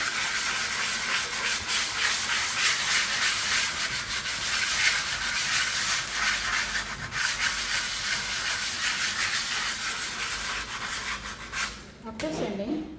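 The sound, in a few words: sanding a dried texture paste surface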